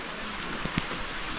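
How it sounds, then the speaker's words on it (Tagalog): Heavy rain pours as a steady, even hiss with no gaps, broken by one or two brief nearby knocks or splashes and no talking. "Lakas na ulan!"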